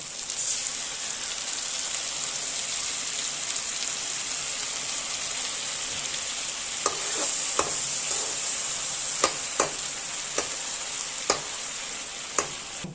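Pointed gourd with mustard paste sizzles steadily in a pan, giving a constant hiss with scattered sharp clicks and pops from spattering oil near the end. No one speaks.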